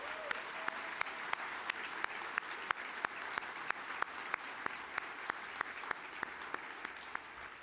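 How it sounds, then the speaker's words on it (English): Sparse, evenly spaced claps ring out at a chamber of commerce annual dinner and awards ceremony, sounding like a small audience clapping over a low room hum. "let's give them a round of applause, please"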